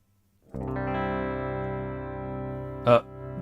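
A sustained electric guitar chord on the bridge humbucker pickup rings out clean with a touch of reverb, followed by a brief pick scrape near the end.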